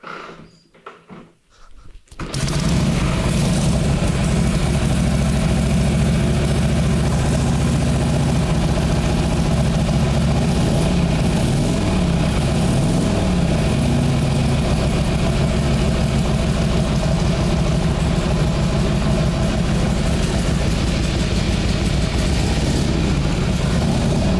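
Silence breaks as an early Harley motorcycle engine fires up, then settles into a steady, loud, low idle that continues close by without talking.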